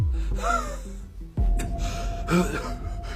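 A person imitates a student wheezing and gasping for breath, with two loud, close strained inhalations separated by a brief pause, no words spoken.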